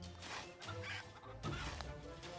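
Chickens cluck in Townsmen VR, a village-building game, with several short quiet clucks and murmurs overlapping in a low, close cluster.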